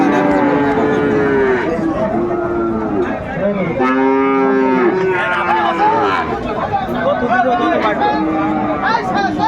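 A Sahiwal bull lowing repeatedly at a busy cattle market, with long, loud, close moos rising and falling over steady crowd chatter and talking voices.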